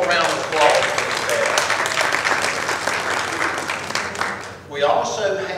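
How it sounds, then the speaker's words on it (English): Audience members at a Red Cross annual meeting clap in a sustained, fairly loud round of applause, with voices mixed in and a brief dip before the clapping swells again near the end. "So again, just one more round of applause."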